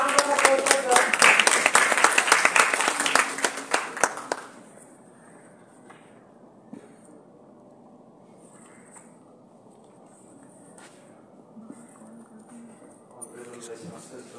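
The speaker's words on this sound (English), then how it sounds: "A huge round of applause for sir." An audience at the concluding ceremony of an elocution contest series claps loudly for about four seconds, the applause then dying away into a quiet hall with faint background sounds.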